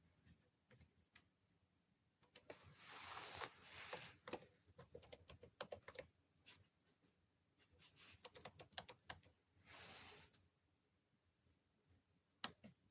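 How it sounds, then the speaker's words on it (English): Soft, close typing on a computer keyboard comes in quick irregular flurries of clicks and taps, broken by short pauses and a few louder keystrokes, with no voices. "I was typing it."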